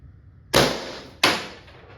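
A Valken M17 less-lethal CO2 launcher with a CAR stock firing two sharp, loud pops about 0.7 seconds apart, each trailing off in a short hiss.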